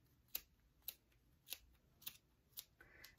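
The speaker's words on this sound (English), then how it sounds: "snip the end off, and then you just go right up the sides here and cut it" Scissors snip yarn in a craft project, giving five or six crisp, faint cuts at an even pace, close by in a quiet room.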